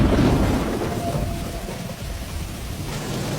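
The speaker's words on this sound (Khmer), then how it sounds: "តែភ្លៀងខ្លាំងបាត់នេះ" Heavy rain pours down steadily in a thunderstorm, with a low thunder rumble near the start and dense, close hiss throughout.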